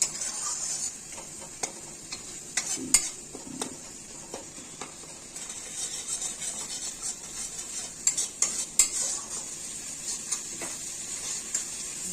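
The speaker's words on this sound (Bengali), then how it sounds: "এইভাবে মশলা কষানোর সময় লো ফ্লেমে করবেন" Spices stir-fried over low flame in a kadai, with scattered spoon scrapes and taps against the metal above a soft, continuous sizzle, close and alone without talk.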